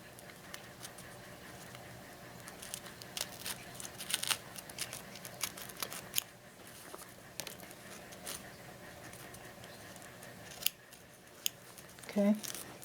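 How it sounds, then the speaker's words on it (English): Small sharp scissors snipping through interfacing fabric during in-the-hoop machine embroidery, light crisp clicks scattered irregularly, close but quiet over a faint background hiss. "I'm going to use a sharp small pair of scissors here"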